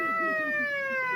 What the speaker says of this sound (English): I have this really cool siren on this thing